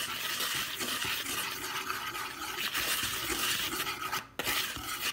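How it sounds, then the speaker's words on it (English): Banana bread batter with baking soda mixed by hand in a bowl, a continuous scraping and stirring rustle with light utensil clinks, close up and steady, with one brief pause. "Then I mix everything together."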